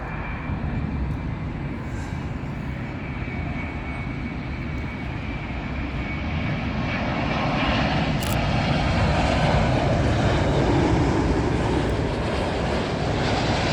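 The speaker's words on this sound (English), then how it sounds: "Up next, the Vankia 787 Dreamliner. This one arriving in from Bogota." Boeing 787 Dreamliner airliner arriving at Heathrow Airport from Bogota, its jet engines a steady, broad roar that swells slightly louder toward the end, with no talk over it.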